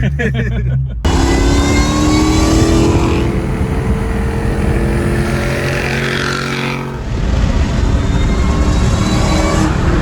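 Engine of a Terminator Mustang SVT Cobra while driving: a loud, steady rumbling drone with rising and falling revs under road noise, heard from inside the car.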